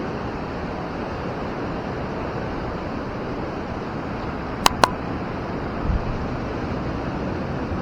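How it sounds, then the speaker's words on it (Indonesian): Ocean surf breaking on the rocky shore of Karang Nini beach makes a steady, close, wind-buffeted roar that washes on without pause, broken only by two sharp clicks partway through. "Mantap ombaknya mas."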